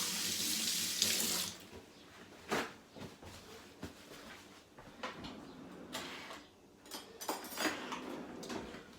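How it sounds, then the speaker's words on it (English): A kitchen tap runs into a sink for hand washing with antiseptic soap, a short faint gush of water followed by scattered quiet splashes and handling noises. "Wash your hands. Antiseptic soap, as usual."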